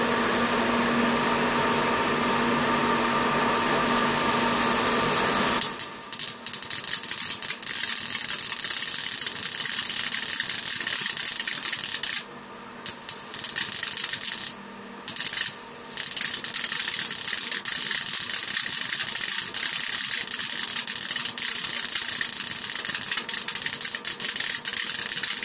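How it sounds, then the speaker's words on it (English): High-voltage arcs from a 49 kV ZVS driver buzz and crackle harshly, starting with a loud hiss that drops into a sustained rough sizzling with brief cutouts and sputters. "this is 49 kV. Without no capacitor, you should get some lovely arcs in there."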